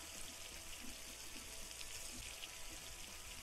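In The Long Drive video game, water pours out in a steady, even splashing stream that runs unbroken throughout at low volume.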